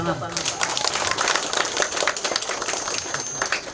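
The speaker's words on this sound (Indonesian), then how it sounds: "Tepuk tangan." Steady crackling applause rises from the audience at a Quran recitation graduation ceremony for children at a village Islamic school, continuous dense clapping of moderate loudness.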